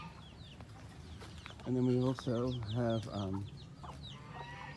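Chickens cluck in a farm enclosure alongside quails and ducks, a run of several loud close calls in quick succession over faint background noise, with a voice speaking briefly.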